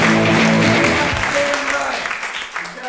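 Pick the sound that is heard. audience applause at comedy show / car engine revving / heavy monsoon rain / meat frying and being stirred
audience applause at comedy show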